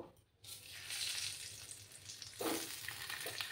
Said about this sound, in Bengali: দিয়ে আমি ডিমগুলো ভেজে নেব।